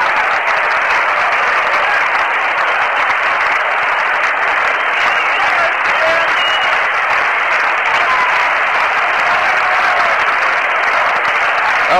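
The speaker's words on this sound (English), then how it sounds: "the crowd here at Shea is starting to stir around" Baseball crowd at Shea Stadium during a Mets playoff game, a dense, steady wash of applause and stirring murmur filling the ballpark, loud and continuous with no break.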